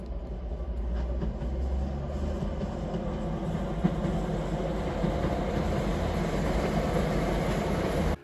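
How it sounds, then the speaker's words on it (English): A non-steam train rumbles past on tracks in the Scottish Highlands, a steady low roar with faint rhythmic clatter, continuous and fairly close, ending abruptly. "we were also lucky enough to see a train come around that bend just as we were about to leave"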